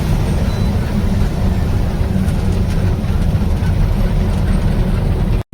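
Steady, loud low rumble of an express train in motion near Bharuch, a continuous heavy drone with faint rattling on top, no clear voices.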